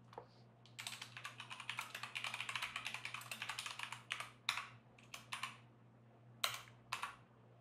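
Someone types a drop database command for PostgreSQL on a computer keyboard in VS Code. Rapid bursts of close, crisp keystrokes come in clusters with short pauses between them, over a faint steady electrical hum.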